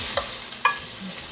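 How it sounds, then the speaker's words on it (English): Ginger and garlic sizzle in a hot pan for an Indian-style vegetable soup, a brief burst of frying with two quick clinks of utensil against the pan. "Next up, I'm going to add the ginger and garlic."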